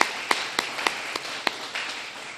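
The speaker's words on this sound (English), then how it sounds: "If we could give him a round of applause." At a county political meeting, a thin round of applause comes as a handful of distinct, evenly spaced claps, fairly faint and sparse, with no talk over them.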